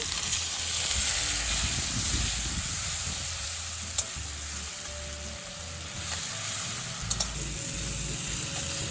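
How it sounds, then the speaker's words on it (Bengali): Ginger, chilli and cumin paste fries with turmeric and potatoes for chhanar borar dalna, a steady close sizzle with stirring, a few sharp clicks of the spoon against the pan. "এই হলুদের সাথে লঙ্কা, জিরে, আদা বাটাটাও খুব ভালো করে আলুর সাথে ভেজে নেব।"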